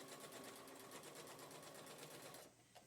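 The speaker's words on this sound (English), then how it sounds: "we're going to continue sewing till we get to the end" A sewing machine stitches a fabric seam with a fast, steady, even rattling hum close by, then stops abruptly near the end, leaving a brief small click.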